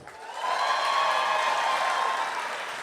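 An audience at a school convocation claps and applauds steadily. The applause swells quickly and holds as a dense, even wash of clapping before easing slightly at the end.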